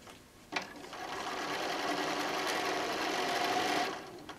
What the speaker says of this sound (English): So we're going to stitch across.